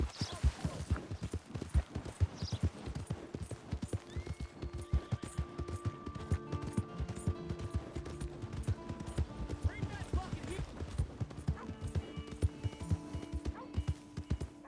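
Horse hooves clip-clopping in the Red Dead Redemption 2 video game, a steady run of close hoof beats under ongoing talk and background game music.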